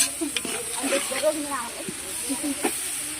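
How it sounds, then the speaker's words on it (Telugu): Ginger garlic paste fries in a pan for chicken curry, a close sizzle and hiss running beneath someone talking over it. "అల్లం వెల్లుల్లి పేస్ట్ కూడా వేసాను ఇప్పుడైతే అది ఫ్రై చేస్తున్నామండి"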